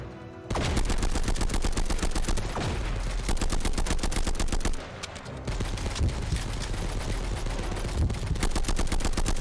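Loud, dense gunfire from the Sınır Ötesi shooter game, set in the Afrin operation, comes as rapid regular bursts that pause briefly midway and then resume.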